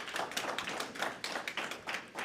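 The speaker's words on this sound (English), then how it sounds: "round of applause for Craig Scott one more time" A small crowd applauds Craig Scott at a community voting event, a brief burst of quick, fairly faint hand claps with no speaking.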